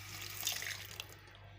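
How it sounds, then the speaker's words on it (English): Water poured into a pan of chicken being cooked, a soft steady splashing stream that trails off near the end, faint and close. "now I am adding in water"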